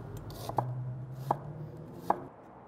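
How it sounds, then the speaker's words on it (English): A knife minces red onion on a cutting board in three crisp, evenly spaced chops over a faint background hum, close and clear with no talk. "I'm gonna mince up about 1 cup of this red onion"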